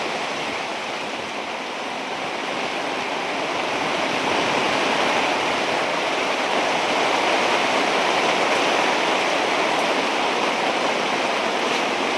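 Heavy night rain pouring down, a loud, dense, continuous wash of noise that swells slightly over time, with no talking.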